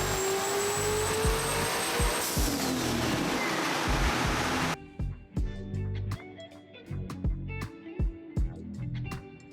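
A turbocharged LS V8 roars on a dyno at full load, making a loud, dense rush of engine and turbo noise that cuts off abruptly about halfway through. Clanking and shuffling follow in the quieter remainder.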